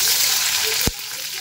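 Onion hits hot oil with cumin and black pepper in a pan, giving a steady, bright sizzle with a brief thud partway through, close by.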